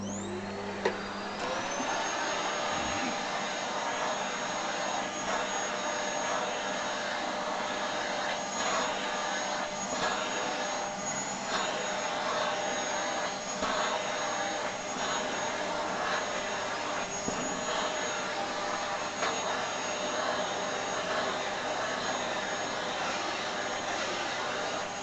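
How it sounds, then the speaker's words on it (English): Hoover vacuum cleaner running indoors near a cat, a steady loud whine and motor drone that switches on and holds for the whole stretch, with faint bumps and a few brief voice sounds underneath. "here we go with the Hoover."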